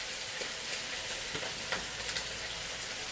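Thai basil stirred into a hot pan of pad kaprao with the gas off, giving a steady broadband sizzle and fry with soft stirring scrapes, close and even throughout.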